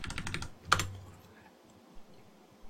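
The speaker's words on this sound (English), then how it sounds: "this is keyboard all the way. There's no mouse in here." Quick burst of computer keyboard keystrokes while playing a retro strategy game, a rapid run of clicks followed by a single louder key press, then near quiet.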